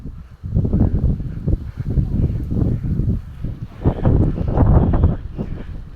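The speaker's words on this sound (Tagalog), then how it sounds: "Sige hangin, itulak mo ako." Strong wind buffets the microphone in gusts at an outdoor spot on Monte Maria, a steady low roar that swells and dips throughout, with a person's voice mixed in.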